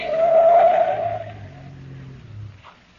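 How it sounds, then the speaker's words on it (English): A car skids off the road in an old-time radio drama sound effect, with a loud, close tire squeal that slides downward and fades into a lower rumbling engine that dies away. "I ran up the turn and then cut off to the side of the road."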